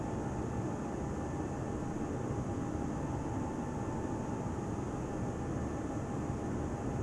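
An Airbus A320 taxiing to the runway in Microsoft Flight Simulator 2020, heard from inside the cabin as a steady, even engine rumble and whine with no change in level throughout.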